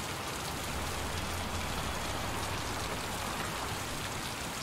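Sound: rain in a video game

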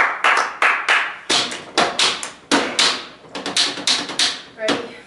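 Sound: hand clap to mark the start of a film take

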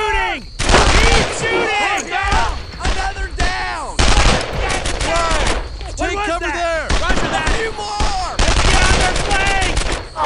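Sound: gunfire in video game Brothers in Arms: Earned in Blood

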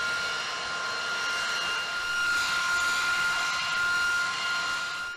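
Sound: B-52H Stratofortress bomber engines

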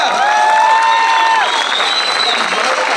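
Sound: audience applause

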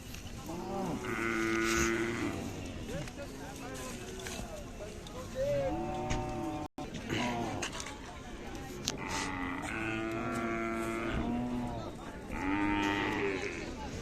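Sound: Khillar cattle mooing at a fair

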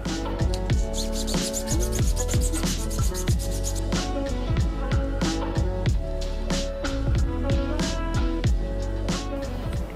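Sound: sanding a silver dollar coin

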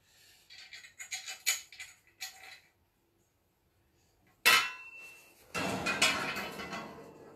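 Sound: screws and nuts being fitted while building a rat cage

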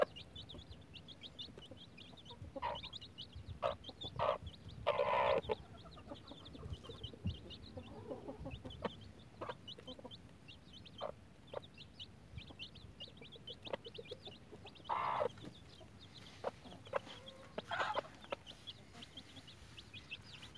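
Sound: hen and chicks clucking

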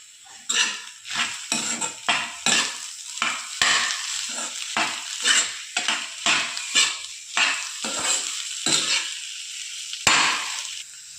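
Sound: stirring potato chutney with salt in a pan

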